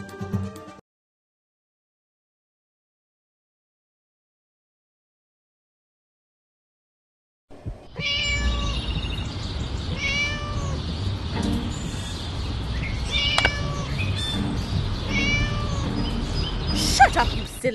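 A cat meows repeatedly in the Scary Teacher 3D video game, loud, close and fairly continuous cries after several seconds of silence, with a brief burst of sound at the very start.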